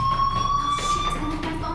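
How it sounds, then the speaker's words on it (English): Fire alarm ringing in the game Life Is Strange: a faint, steady high-pitched electronic tone running throughout beneath a soft ambient bed. "do you hear that fire alarm? That means you should be outside."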